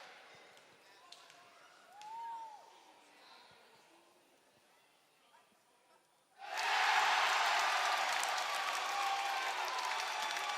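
At a high school boys basketball quarterfinal, a gym crowd breaks into sudden loud, sustained applause after a quieter stretch with a voice and small court noises.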